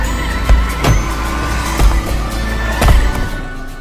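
Sasquatch drives a car badly in a video game: a steady engine drone runs throughout, broken by four sharp thuds or skidding jolts, loud and close.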